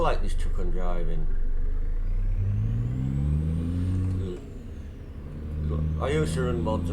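Kenworth K100E truck engine in a trucking simulation game rumbles steadily with rising and falling revs as gears shift, loud and close, with someone talking over it at the start and end.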